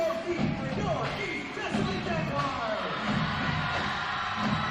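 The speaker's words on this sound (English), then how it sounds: "There's the crowd getting pumped up for their Jags" A high school basketball crowd fills the gym with sustained cheering and roaring for the Jags, a steady dense wash of voices with no pauses, while an announcer talks over it.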